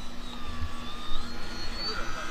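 A Kitfox radio-controlled model airplane flies overhead, its thin electric motor whine rising and falling at moderate distance over steady wind noise, while people talk and chat nearby.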